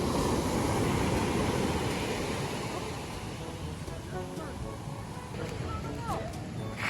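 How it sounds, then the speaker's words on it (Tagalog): Big ocean waves surge and wash steadily close by on a sea shore during fishing with nets, a broad continuous roar with wind buffeting the microphone and people talking and calling out over it. "laki ng alon"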